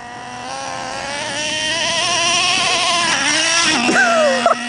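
A Traxxas Revo RC car whines up in pitch as its tires spin and scrub, loud and close, building steadily before a few sharp knocks at the end.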